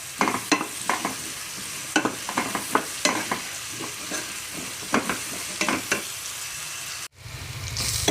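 Salted onions frying in a pan for chicken curry give a steady, close sizzle broken by repeated scraping stirs, then a sudden cut to a duller, rumbling tone near the end; nobody speaks.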